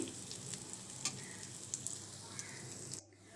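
Chopped onions fry over medium heat for a mutton curry, giving a quiet continuous sizzle with light crackles and occasional stirring ticks before cutting off abruptly.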